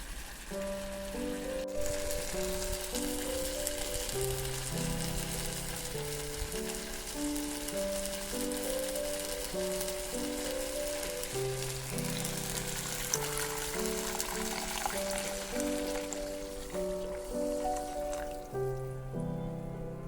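Ingredients are fried and stirred together in a pan with a steady, even sizzle before water is added, all set under continuous background music.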